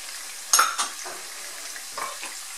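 Garlic goes into a pan for Cuban arroz con pollo, with a sharp clatter and a soft sizzle, then a few quieter stirring scrapes and a brief knock.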